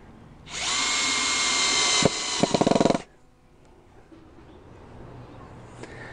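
A power drill drives 1.5 inch wood screws through an oak strip into planks for a backyard table, whirring steadily for about two and a half seconds before ending in a quick ratcheting clatter and stopping.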